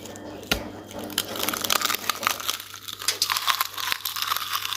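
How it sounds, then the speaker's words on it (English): Seasoned stinging nettle crisps with salt and cinnamon crunch and crackle as they are bitten and chewed, with a sharp close bite near the start followed by a steady run of brittle crinkling crunches. "hear this crunch"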